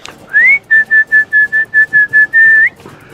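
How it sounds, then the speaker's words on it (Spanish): A sharp human whistle used for handling horses: a rising opening note, then a rapid run of about eight short, evenly spaced pulses on one pitch, ending in a longer note with an upward flick, loud and close. "aprendimos a manejar los caballos con un silbido diferente."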